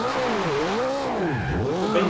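A tuned Mitsubishi Eclipse fitted with a super sport kit roars in Forza Horizon, its engine pitch swooping up and down through repeated revs and gear changes, loud and close with no talk.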